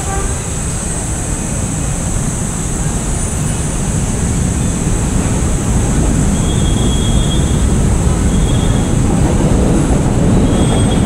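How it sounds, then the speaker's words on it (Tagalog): LRT1 light rail train passing close by near Manila City Hall in the city, a loud continuous rumble of wheels on track with a high metallic squeal over it throughout. "So yan ang LRT1."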